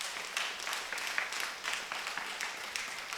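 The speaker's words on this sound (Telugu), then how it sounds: "ఒకసారి గట్టిగా చప్పట్లు కొట్టండి" An audience at a meditation gathering claps hard and together in a dense, steady burst with sharp individual hand claps, close and loud, and no talking.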